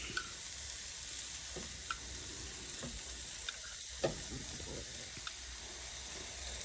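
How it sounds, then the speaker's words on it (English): Crushed tomatoes hit hot oil in a pan while cooking rajma, giving a steady soft sizzle and hiss with occasional small pops and clinks, fairly quiet and without speech. "I'm going to add 5 tablespoons of crushed tomatoes."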